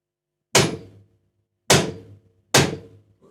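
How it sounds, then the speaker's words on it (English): Hammer blows driving a metal guitar fret into a wooden fretboard: three loud, sharp, evenly spaced knocks about a second apart, close up with short ringing decay and no talk. "Hammer the rest in."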